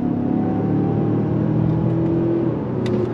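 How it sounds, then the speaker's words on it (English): A 2022 Mazda CX-5 Turbo SUV accelerates under manual gear shifting, its engine drone climbing steadily in pitch from inside the cabin, loud and continuous, with no talking. "another great area that this CX-5 accelerates in is going to be with the manual shifting"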